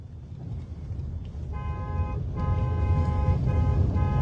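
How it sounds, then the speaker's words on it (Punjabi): A car horn honks in several short repeated blasts over the low rumble of an idling engine and road noise. "ਹਾਰਨ ਤੇ ਹੱਥ ਰੱਖ"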